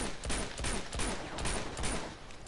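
Rapid automatic gunfire from the video game Uncharted 2, a dense fusillade of repeated shots with no break, fairly loud and close throughout.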